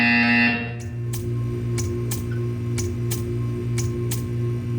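A buzzer from the video game Portal 2, a loud tonal electronic drone that cuts off, followed by a steady series of evenly spaced sharp ticks.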